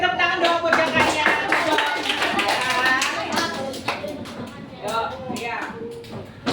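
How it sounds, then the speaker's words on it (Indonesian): Children in a classroom clap their hands in a busy, uneven burst lasting several seconds, mixed with kids' voices and chatter throughout. "Kita tepuk tangan dong buat jakarnya."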